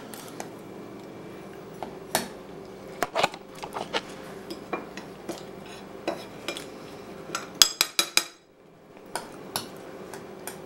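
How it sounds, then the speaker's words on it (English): A utensil mixes cinnamon and sugar in a bowl, with close, irregular clinks and scrapes against the dish and a quick rattling flurry near the end, no voices. "I'm gonna mix cinnamon and sugar and I'm gonna roll these in there"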